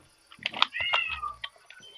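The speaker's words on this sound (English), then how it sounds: "will my cat just shut up?" A house cat gives one loud, close, drawn-out meow with a rising-falling pitch and a couple of shorter chirpy sounds around it, alone with no talking.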